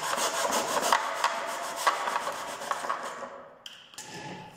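A hand saw cuts through foam board at a 45-degree angle, giving steady close rasping strokes in a rhythmic back-and-forth that slows and stops near the end.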